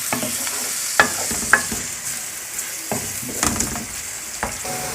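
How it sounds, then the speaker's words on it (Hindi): Two medium sliced onions fry in a pan with a steady sizzle, broken by occasional clinks and scrapes of a spoon stirring them, close and alone without talk. "इसमें हमने डाल दिए 2 मीडियम साइज़ की स्लाइस की हुई प्याज। इसको हमने इतना फ्राई करना है इसका कच्चापन निकल जाए"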